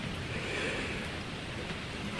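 Rain patters on the tree canopy of a forest campsite, a steady, dense hiss of droplets with no pauses and no voices.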